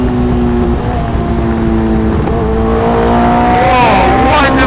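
Hayabusa-powered Westfield race car accelerating hard up the straight at a track action day, a loud, close engine note climbing steadily in pitch through the gears, with some voice over it.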